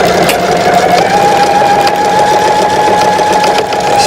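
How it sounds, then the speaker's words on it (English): A sewing machine runs steadily while back stitching a zipper seam, its loud, even mechanical whir holding one constant pitch throughout with no pauses and no talk. "I like to do the back stitching on these seams because it helps to secure it"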